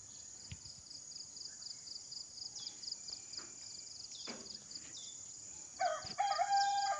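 A rooster crows faintly in the distance at a chicken coop amid a quiet backdrop of high, steady insect buzzing and soft clucks.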